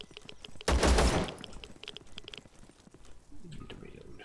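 Gunfire in the video game Zero Sievert, a single sharp loud burst of shots lasting about half a second, followed by quieter scattered clicks and rustles.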